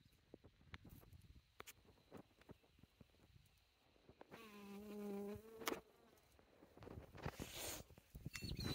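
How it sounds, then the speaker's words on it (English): A bee drifts around garden flowers in a riverside winter garden, its faint buzzing rising into a clear nearby drone mid-way, amid small rustles and clicks with no one talking. "we have a bee enjoying this one."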